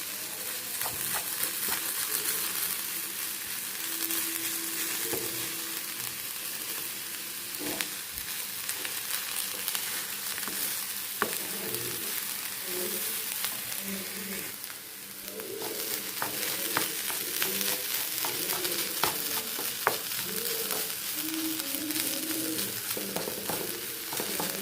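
Egg scrambled with beetroot sizzles steadily in a pan while a spoon stirs and scrapes from one side, a continuous frying hiss with intermittent scraping clatters and no talk.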